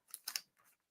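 Paper card front for a handmade birthday card trimmed with scissors: three quick, crisp snips close up, then a softer rustle as the paper shifts.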